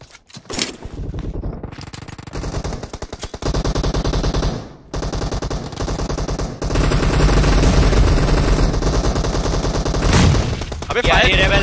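Gunfire in the PUBG Mobile video game: loud, sustained bursts of automatic weapon fire come in long rattling volleys with short gaps between them.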